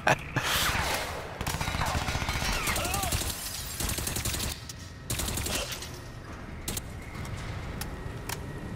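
Submachine gun fire in Crysis 3, rapid sustained bursts of automatic shots with brief pauses, loud and close, over dense game action noise.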